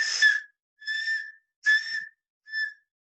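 Four short, high-pitched whistles with a slightly buzzy, tonal quality, spaced apart with brief silences, mimicking the whistling call of a wild dog (dhole).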